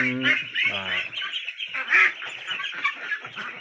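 Ducklings and adult ducks of several breeds, including crested ducks, kept in a nursery pen: a few loud, harsh quacks up close, then a busier run of softer calls and chatter that may include a faint voice.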